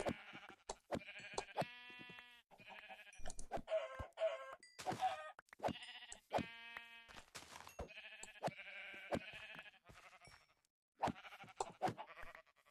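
Sheep bleating and chickens clucking in Minecraft, short bursts of calls repeating on and off with brief gaps and small sharp clicks between them, fairly quiet.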